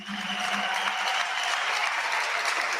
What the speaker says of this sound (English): I think she deserves a round of applause and a standing ovation.